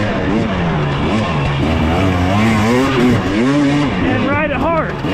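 A 2023 Husqvarna TX300 two-stroke motorcycle ridden hard, its engine loud and close with rising and falling revs that climb into sharp high-pitched sweeps near the end, with no talk.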